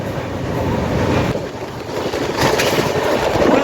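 A passenger train running at about 130 km/h, heard from inside as a loud, continuous low rumble and rushing roar with rolling surges.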